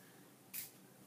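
One short, quiet hiss of mist spray lands on a scrapbook page, a soft puff of a fraction of a second in an otherwise still room.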